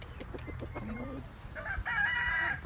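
A darag native chicken recovering from fowl pox, held in hand, gives a quick series of close clucks followed by a louder drawn-out squawk.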